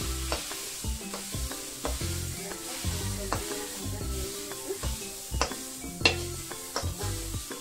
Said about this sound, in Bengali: আমি মসুরটা মানে সবজির সঙ্গে একটু ভেজে নিই